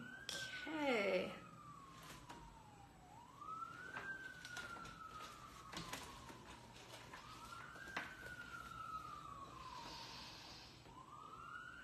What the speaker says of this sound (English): we wait for the sirens to go by in the background